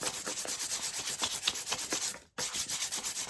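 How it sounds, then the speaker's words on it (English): Super fine sandpaper smoothing an epoxy tumbler with watercolor paint inside, rhythmic back-and-forth rubbing strokes in quick even succession, close up, with one brief pause near the end. "I'm just kind of smoothing down"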